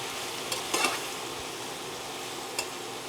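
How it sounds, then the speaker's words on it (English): Spinach sautéing in a pan, a steady low sizzle with a few brief clicks of a utensil against the pan, close and fairly quiet. "my 1 cup of spinach to here. I'm gonna give that a nice saute."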